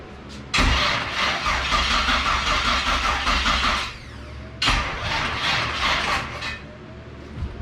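An LS-swapped Ford Foxbody Mustang cranks hard in two loud, close bursts of rapid starter churning, a few seconds each with a pause between, and the engine never catches.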